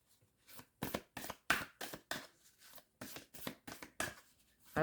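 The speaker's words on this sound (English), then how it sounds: "I always struggle shuffling these big cards." Large tarot cards shuffled by hand, a quick series of about a dozen short, close, papery swishes and slaps with short pauses between them, and no speech.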